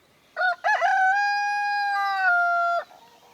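A rooster in a chicken coop out in the forest gives one long, clear cock-a-doodle-doo, close and loud, rising quickly and holding steady before it cuts off.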